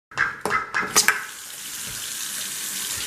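Water gushes from a tap into a sink for a pet, starting with a few splashy bursts before settling into a steady, close, continuous flow.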